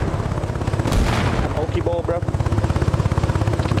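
Helicopter in the video game Arma Reforger, a steady rotor thump with a rhythmic low pulse that strengthens toward the end, heard beneath loud game effects and a player's speech.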